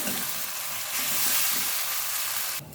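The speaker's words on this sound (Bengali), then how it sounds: "এটা ভালোভাবে মশলাটা আমি কষতে থাকবো।" Ginger paste and spices stir-frying in hot oil for a Bengali mutton curry, a steady close sizzle and crackle with light scraping from stirring, continuous throughout with no talking.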